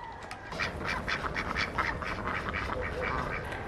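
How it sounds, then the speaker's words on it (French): A group of ducks quacking repeatedly outdoors on a farm, with rapid overlapping calls throughout and no talking. "Allez les canards!"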